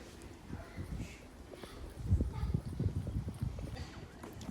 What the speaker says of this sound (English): He goes into the trot really nicely and then comes around this corner great.